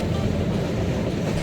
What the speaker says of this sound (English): it's the giant boat turning around